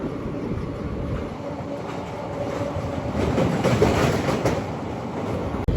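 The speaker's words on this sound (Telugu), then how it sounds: "Nagarsol నర్సిపూర్ super fast express" The Nagarsol–Narsapur Superfast Express running alongside on a parallel track, a loud, steady roar of rolling wheels and rattling coaches that swells slightly midway, heard from aboard a moving passenger train.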